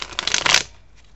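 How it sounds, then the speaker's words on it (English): Tarot cards are shuffled briefly, a quick papery riffle of rapid flicks that builds to a burst and then settles into a soft rustle, with no talking over it. "Francesca, I actually already pre-shuffled these a little bit, so I didn't have to do a long shuffle on the camera"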